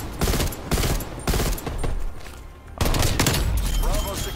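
Pistol gunfire in the video game Call of Duty: Black Ops Cold War, a few sharp loud shots spaced apart amid busy game noise, with a voice talking over part of it.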